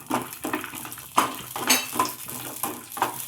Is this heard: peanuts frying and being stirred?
yes